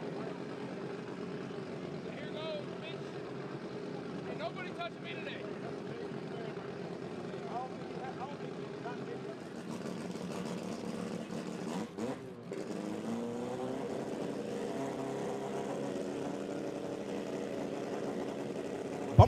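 Turbocharged Honda K24 K-series race car engine at the Haltech World Cup Finals, a steady droning roar that shifts character partway through, running continuously under a commentator's voice.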